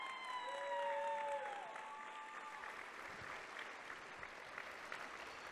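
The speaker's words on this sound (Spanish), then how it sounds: "Otro fuerte aplauso para Natalia." An audience applauds a student writing contest award winner, a moderate steady clapping from a crowd heard at some distance, fading slightly toward the end.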